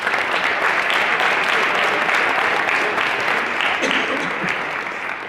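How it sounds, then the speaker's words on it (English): A crowd at a football banquet claps steadily and loudly in sustained applause, dense and even throughout, tapering slightly at the end. "just a round of applause for all of these people"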